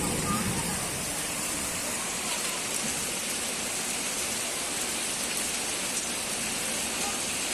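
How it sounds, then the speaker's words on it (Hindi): Steady, dense rain with hail pelting down outdoors in winter, a continuous even hiss of drops filling the whole stretch at moderate loudness with no breaks. "आज तो बारिश हो गई ओलो वाली"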